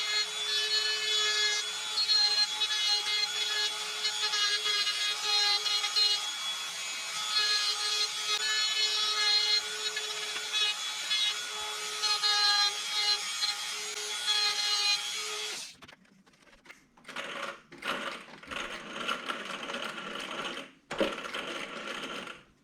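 A Dremel rotary tool grinds out the inside of an RC car wheel for a Traxxas Sledge, a steady high buzzing whine for about fifteen seconds, then a run of short, choppy grinding bursts with brief pauses, close and alone.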